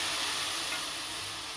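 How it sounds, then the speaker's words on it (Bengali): Egg tarka masala frying in a wok with a little oil and a splash of water, a steady soft sizzle and hiss while it is stirred, with no voices. "জল দিয়ে মশলাটা ভালো করে কষিয়ে নিতে হবে।"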